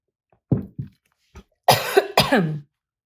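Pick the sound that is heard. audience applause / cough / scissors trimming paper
cough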